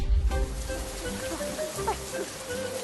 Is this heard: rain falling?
yes